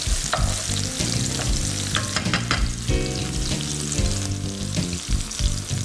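Loud sizzling and crackling of basil and crushed garlic frying in a pan, broken by scraping and stirring noises, continuous for a few seconds.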